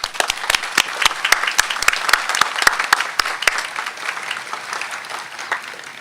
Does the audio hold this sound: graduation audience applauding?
yes